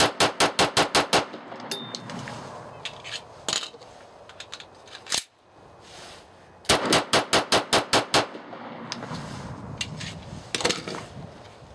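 Norinco NP-17 9mm pistol fired at a range in fast strings of sharp, loud shots. About six come in quick succession, then a few single shots, then another rapid string.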